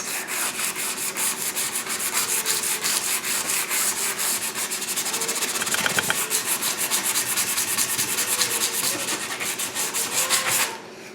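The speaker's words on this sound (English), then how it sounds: "we're going to take some sandpaper, just kind of go over the biggest part of this." Sandpaper rubbed steadily over a rusty sword blade, a continuous rasping scrub with rapid back-and-forth strokes, close and fairly loud throughout with no talking.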